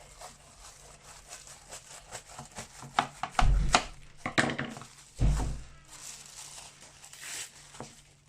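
Knife cutting through folded brick pastry sheets on a board, a few soft thuds and scraping slices in irregular bursts, close and without talking.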